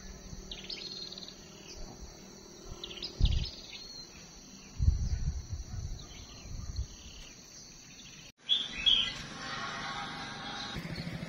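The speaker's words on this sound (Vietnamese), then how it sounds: "sâu dừa kêu bên đây à, sâu đầu đỏ nó kêu bên đây" Small wild songbirds (chim sâu) call from a forest beside a stream, with thin high chirps and twittering notes repeating over steady insect buzz, plus a few low rustles and knocks nearby.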